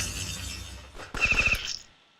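A glassy shattering impact from a Shatter Shot ability striking a unit in Battle Nations, a short crackling burst that fades quickly.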